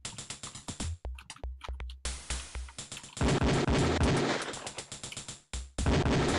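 Beretta pistol shots ring out at a Police Quest 4 firing range: a rapid sequence of sharp, loud reports with brief gaps, some shots closely spaced, others trailing off with short echoing decays.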